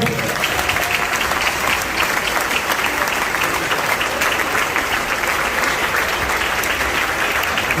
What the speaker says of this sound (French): Ovation pour toutes ces personnes